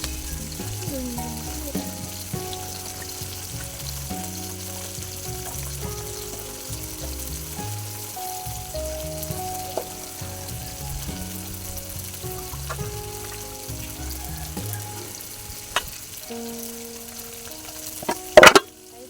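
Mrigal fish fries in a pan at home, a faint steady sizzle running beneath louder background music, ending with a sharp clatter.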